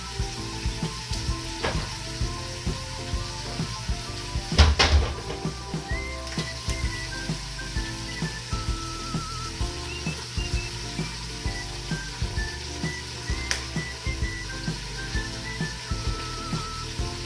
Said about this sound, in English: So we're going to brown this for a little while.